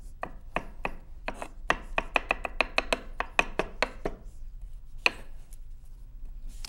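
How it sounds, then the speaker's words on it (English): Garlic cloves minced with a knife: a run of crisp, rhythmic chopping taps, spaced at first, then quickening into a rapid close cluster before a few final isolated strikes, with no voices. "when you're mincing, you really want to get your garlic chopped really well"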